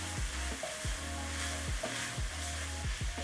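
Garlic, ginger and a seasoning cube sizzle in a frying pan for samosa filling while a utensil stirs them, giving repeated scraping strokes about every half second over a steady close hiss.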